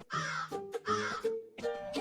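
A cartoon crow in a dubbed animated telling of the thirsty crow fable caws three times in quick succession, loud, harsh and close, with no talking underneath.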